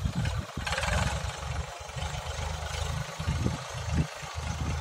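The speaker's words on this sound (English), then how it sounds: "Now it is, what do you call, covering the soil with the blade harrow." A tractor engine hums steadily at mid loudness as it pulls a blade harrow across a field, covering the soil after drilling, a continuous low drone with brief surges and no talk.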